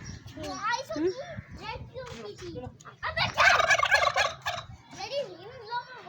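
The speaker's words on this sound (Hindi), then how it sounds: "यहाँ पे टर्कीज इंजॉय कर रहे हैं" Turkeys gobble in loud, warbling bursts nearby while being fed samosa and garlic. Children talk and shout over and between the calls.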